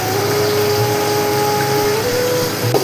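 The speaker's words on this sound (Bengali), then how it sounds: "এখন আমি জিরাটা বেটে নেব।" An electric mixer grinder grinds cumin seeds for a tilapia kalia, giving a steady, close motor whine and hum that runs unbroken throughout.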